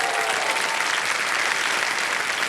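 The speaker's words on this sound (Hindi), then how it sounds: "तालियां बज जाए इनके लिए।" Studio audience on a quiz game show breaking into sustained, dense applause, a steady roar of many hands clapping together without pause.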